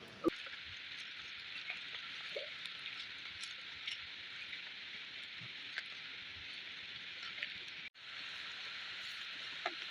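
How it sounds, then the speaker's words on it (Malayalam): Heavy rain pours steadily as a dense, constant hiss that holds at the same loudness for the whole stretch, with no voices, and drops out for just a moment near the end before returning. "നല്ല മഴയാണ് കേട്ടോ നല്ല ശക്തമായ മഴയാണ് ഇങ്ങോട്ട് പെയ്തുകൊണ്ടിരിക്കുന്നത്"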